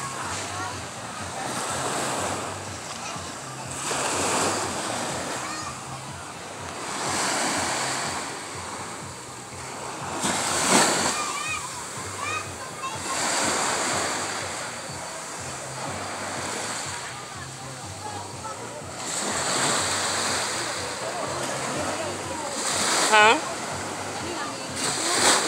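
Ocean waves surging and breaking on a beach in Davao, Philippines, swelling in repeated rolling washes every few seconds with gusty wind buffeting the microphone, loud and close, with no talk.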